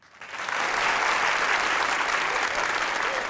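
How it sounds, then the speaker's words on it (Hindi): A studio audience at a comedy talk show breaks into applause that swells within half a second and holds loud and sustained, a dense wash of many hands clapping together. "तालियां बजाएं"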